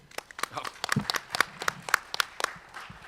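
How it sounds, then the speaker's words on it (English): Scattered audience applause for a speaker at an open-education talk, sharp individual claps at close range in a brief uneven burst, with a little murmuring underneath. "Let's give Chuck a round of applause, actually."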